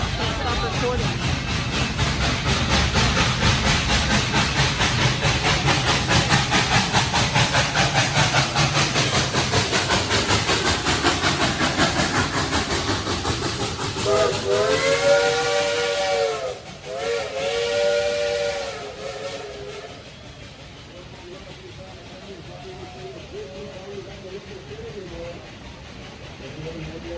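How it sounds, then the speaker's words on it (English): The steam train at Dollywood hisses loudly and steadily, then gives several long harmonic whistle blasts near the end before the sound fades to a quieter chuffing background. "I don't know what it is about this train. I've seen it a million times."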